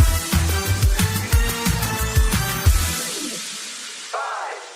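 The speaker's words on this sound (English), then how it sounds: "That was the sound of the attack on the Crocus City Concert Hall in Moscow last weekend" Rapid bursts of gunfire crack in quick succession during the Crocus City Hall concert attack in Moscow, loud and reverberant inside the venue, then give way to a fading hall echo and a brief distant tone.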